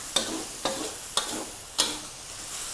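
Tomato and onion with glass noodles stir-fry in a pan, a steady sizzle broken by four evenly spaced scraping strokes of the spatula, close and fairly loud.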